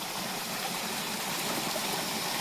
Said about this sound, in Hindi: यहाँ पे है पनिहार, देखो ठंडा पानी